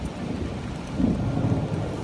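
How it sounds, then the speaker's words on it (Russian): Thunder rumbling low and steady through rainfall in Detroit, a continuous broad wash of rain with a swell of rolling thunder about midway, no voices. "Гром гремит."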